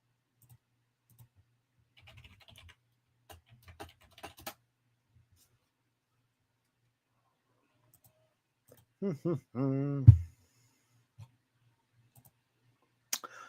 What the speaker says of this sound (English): Hold on. Give me a sec. I'll type it.